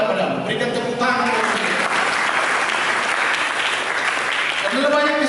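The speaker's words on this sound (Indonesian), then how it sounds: "Berikan tepuk tangan." A church congregation breaks into loud, sustained applause that fills the room, with a preacher's voice faintly heard under the clapping at the start and end.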